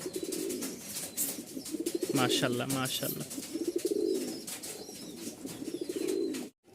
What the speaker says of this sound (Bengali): এখানে আরও এক পেয়ার কবুতর দেখতে পাচ্ছেন